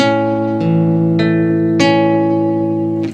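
Solo guitar plays a passage from Canon in D with two notes sounding together, a few sustained plucked dyads struck roughly every half second, clear and close with long ringing decay.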